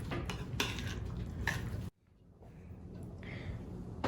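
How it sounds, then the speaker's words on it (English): Steamed pudding batter being stirred together with crushed walnuts in a bowl: scraping, clinking utensil strokes against the dish, close and fairly quiet, with a brief pause midway before softer stirring resumes. "And a half cup of crushed walnuts. and mix that all together."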